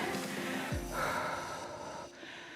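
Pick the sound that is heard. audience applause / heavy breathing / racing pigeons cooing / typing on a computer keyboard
heavy breathing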